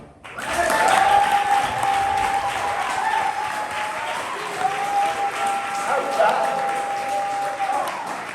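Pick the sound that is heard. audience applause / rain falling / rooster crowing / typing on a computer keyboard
audience applause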